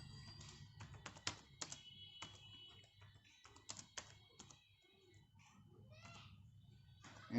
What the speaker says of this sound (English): Let's type a message.